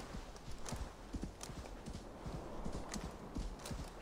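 A horse in Assassin's Creed Valhalla gallops with a rapid, steady clip-clop of hooves. The sound is quiet and continuous, with no voices.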